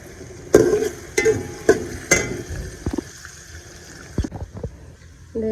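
Onions frying in a pan for karela gosht: steady sizzling with several sharp clatters of stirring spaced through the first half, then quieter frying with scattered scrapes, close and fairly loud.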